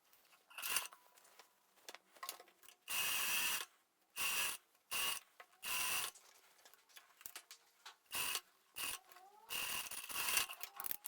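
A sewing machine sews the crotch seam of a pair of shorts with a 1 cm seam allowance, running in short bursts of fast mechanical clatter separated by pauses, near and clear, with no talking.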